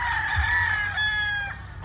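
A young gamefowl stag crows at a game farm, one long, loud, drawn-out call close by with a strained, wavering middle and a clipped finish, with no talk over it.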